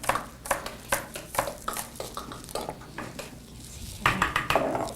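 A knife dices scallions on a cutting board after their roots are trimmed, producing a quick run of close, irregular chopping taps, with a louder burst of cuts near the end.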